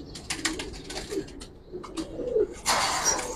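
Giribaz pigeons in a loft make soft, close cooing calls mixed with brief rustles and flutters, with a louder burst of wing and body movement toward the end.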